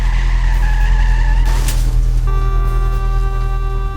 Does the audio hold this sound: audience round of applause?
no